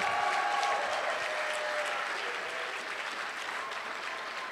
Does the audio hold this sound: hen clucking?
no